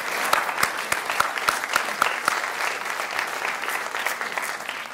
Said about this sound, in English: So I'd like to give a round of applause to our board of directors.